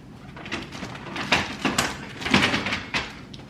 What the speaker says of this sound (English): I always think the easiest way to do it is just take the drawers right out.